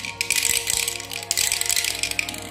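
A toy bear rattles continuously in busy, clattering bursts, loud and close, with no talk over it.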